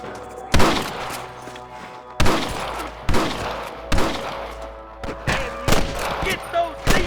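Repeated gunfire in a Red Dead Redemption shootout with snipers: sharp, loud shots in irregular bursts over seven seconds, some close and booming, with a voice speaking between them.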